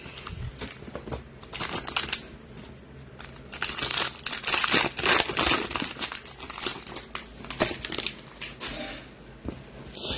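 Cellophane wrappers on packs of 2020 football trading cards being torn open, with steady close crinkling and crackling plus bursts of sharp tearing that continue throughout.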